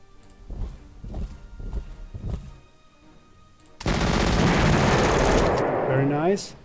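Gunshots in the strategy video game Panzer Corps Gold arrive as a dense, loud crackling volley after a stretch of softer thuds and a voice talking, ending with a rising whine.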